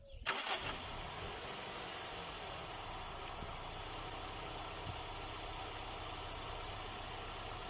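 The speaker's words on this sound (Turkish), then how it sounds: "Şimdi arabamızı çalıştıracağız." A Toyota AE101 car engine cranks with a short starter whir, catches, and settles into a steady, even idle that runs on unbroken, heard up close with no talking.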